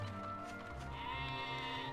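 A sheep bleats in the PlayStation 2 video game Dragon Quest VIII, a short wavering cry rising partway through over soft background game music, fairly quiet and with no one talking.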